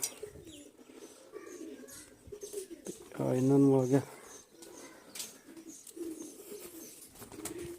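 Pigeons coo in a short burst of low, throaty warbling midway through, surrounded by someone talking casually nearby.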